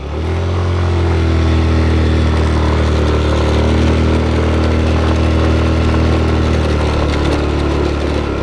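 A motorcycle engine drones loud and steady throughout while riding an uphill mountain road toward Puncak 2 in Sukamakmur, with constant wind and road rumble and no pauses.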